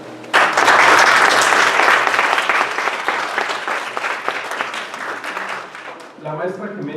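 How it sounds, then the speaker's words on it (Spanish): A roomful of people bursts into loud applause to welcome a lecturer at a psychoanalysis conference. The dense clapping swells at once, slowly thins, and gives way to a voice starting to speak near the end. "para quien pido un fuerte aplauso"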